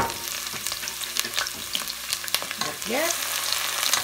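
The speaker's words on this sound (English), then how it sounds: "adding these onions and garlic in. Ooh. Oil is really hot" Onions and garlic hit very hot oil and sizzle loudly for chicken couscous, a steady, close crackling hiss with stirring scrapes throughout and a brief voice over it.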